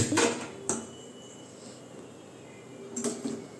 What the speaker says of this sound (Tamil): பிரியாணி சமைக்கிறது பாத்திரத்தோடு வந்தாச்சு